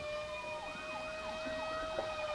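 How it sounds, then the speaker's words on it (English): Wailing sirens rise and fall over a steady tonal drone at a strawberry festival, faint and somewhat distant, with no voices. "I think there are some sirens sneaking up behind them."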